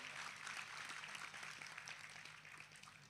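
Faint, steady wash of audience clapping at a live Gujarati stand-up comedy show, dense and continuous with no voices over it.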